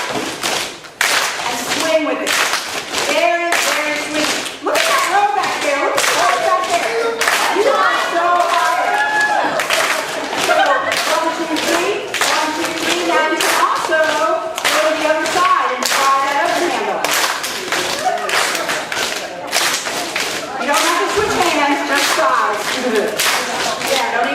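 Rhythmic hand clapping in a dance class at Pasadena United Methodist Church, steady claps in a three-count pattern under continuous instructor talk and group activity throughout.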